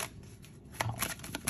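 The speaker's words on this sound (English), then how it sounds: "Inspire me to shuffle if I need to shuffle again." Tarot cards are shuffled briefly, a soft riffling and snapping burst, close and quiet.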